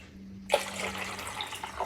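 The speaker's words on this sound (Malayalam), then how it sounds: "നമ്മളിതാ ഇതിലേക്ക് വെള്ളം ഒഴിക്കുകയാണ്." Water is poured into a small homemade aquarium container, a sudden splashing trickle starting partway in and continuing steadily and close by.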